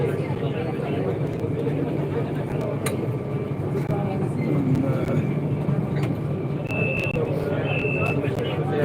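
A metro train at a rail station in Saudi Arabia, a steady, close rumble filling the whole stretch, with a few short high beeps near the end and faint voices in the background.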